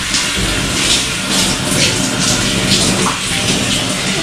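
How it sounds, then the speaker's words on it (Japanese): A handheld shower sprays water steadily during a child's hair wash, a loud, close, continuous hiss and splatter with slight pulsing, without talking. "自分でシャワー持って自分でシャワー持って、こうちゃん"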